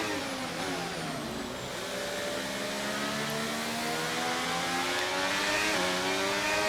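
Race car engines roar in a racing video game at Vegas, a pack of cars with layered whining engine tones rising and shifting pitch together, continuous and loud, with no speech.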